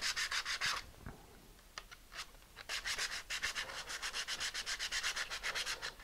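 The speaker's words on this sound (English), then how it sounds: "Now you have to sand on the inside of the wood." Hand sanding inside a small wooden model part makes fast, rhythmic back-and-forth rasping strokes, quiet and close, with a short pause before the brisk strokes resume.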